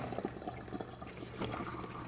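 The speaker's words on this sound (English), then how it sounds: "This is the water going in." Water pouring steadily into an aquaponics deep water culture tank, a continuous splashing trickle at close range with no talk.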